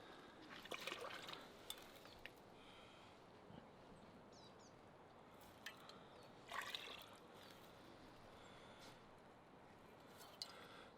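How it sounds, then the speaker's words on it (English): Water trickles and drips through a Helikon-tex water filter bag outdoors, a faint steady patter with occasional louder drops. "See it dripping through?"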